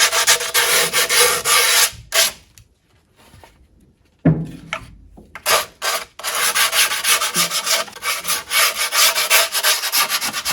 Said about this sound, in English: I'm going to use the cutaway grip tape and basically sand the edges